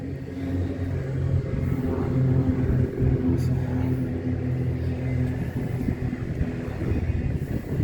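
A car rolls past at an outdoor car-show cruise night, a steady low engine rumble that swells and fades over several seconds amid crowd background noise.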